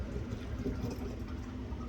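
Water pours steadily into a batch of homemade wine, a continuous low liquid rush that holds even and fairly close for the whole stretch, with no talk over it.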